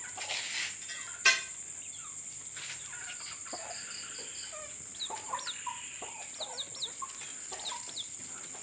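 Large chickens cluck in short scattered bursts over a constant high insect buzz, with a brief sharp knock early on; no voices.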